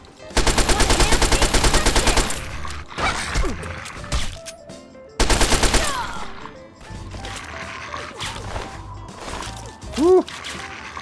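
Machine gun fire in Fallout 3 comes in two loud sustained bursts of rapid rhythmic shots, separated by quieter rumbling combat noise and a brief whooshing sweep near the end.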